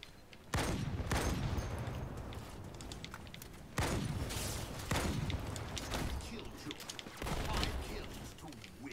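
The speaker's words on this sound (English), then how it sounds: "Another grenade." Grenade explosions and gunfire in a Halo 2 multiplayer match, with heavy booms and continuous bursts of game weapon fire, loud and dense throughout, with several blasts marking sudden surges.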